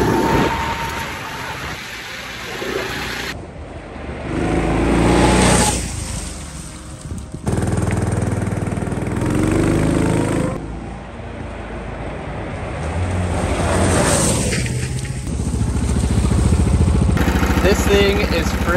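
A Stratos race kart engine runs loud throughout a ride, its roar rising and falling as the kart speeds up and backs off, with wind buffeting and some voices over it.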